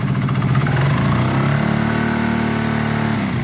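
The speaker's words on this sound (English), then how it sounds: "Half a throttle, I think there's a bit of a flat spot." A Honda CB250 bobber motorcycle engine runs loud and close, its throttle opened so the pitch rises and falls in a steady revving drone with no talk.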